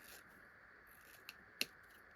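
A strawberry ribbon snipped with scissors, one faint short cut followed by a sharper, louder snip, close up in a quiet room.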